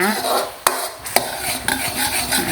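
A utensil stirs a thickening tapioca starch sauce in a pot, with a few sharp knocks against the rim between soft swishing strokes and a faint simmer, close and clear.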